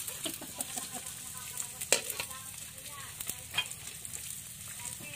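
Danggit fish frying in a pan outdoors on an island, a broad steady sizzle with scattered crackles and a few sharper pops, with faint background sounds.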